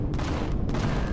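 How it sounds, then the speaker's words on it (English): Dense, rapid volley of laser shots from a UFO video game, one continuous loud burst of overlapping blasts with no pauses. "how come he's shooting lasers?"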